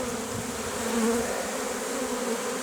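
Honeybees drone steadily around a hive at the edge of a forest in March, a dense, continuous buzzing swarm that stays even and close throughout, with no talking.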